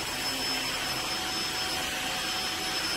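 A Floor One S3 Extreme wet/dry vacuum runs with a steady, loud, close whirring drone that holds constant throughout, with no voices.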